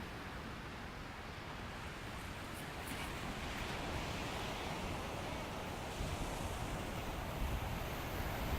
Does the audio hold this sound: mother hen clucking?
no